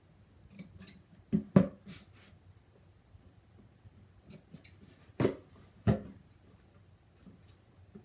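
Scissors snip black tape at the corners of a mat board box, giving a few short, crisp cuts that stand out near and fairly faint against a quiet background.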